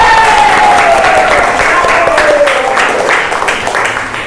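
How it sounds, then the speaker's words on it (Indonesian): Applause from a classroom or university audience at a teacher-training award announcement, steady dense clapping for the whole stretch, mixed with cheering and a sliding whistle-like tone, fading slightly toward the end. "Tepuk tangan ya"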